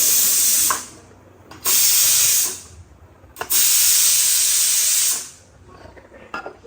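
A pressure cooker on the stove hisses steam in loud, sharp bursts, two long blasts separated by quieter pauses, then fades to a softer background rumble.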